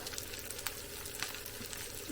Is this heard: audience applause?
no